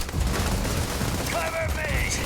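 Rapid video game weapons fire in a jet combat game, dense crackling bursts like missiles and guns launching over a constant loud engine roar, with short whistling tones near the end and a voice talking in places.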